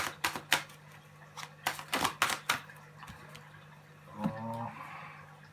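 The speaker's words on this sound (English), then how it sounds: "I say I should draw one more card for you." Tarot cards being shuffled and drawn, producing a quick run of crisp riffling card snaps and flicks close by, then a brief softer rustle, with no talking.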